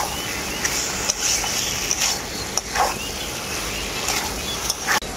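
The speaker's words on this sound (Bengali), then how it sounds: "আলু আর এঁচোড়টাকে মশলার সাথে আমি খুব ভালো করে কষিয়ে নেব" Fried jackfruit and potato stir-fried with spices in a pan, giving a steady, loud sizzle close by, broken by occasional light scrapes and clinks of the spatula.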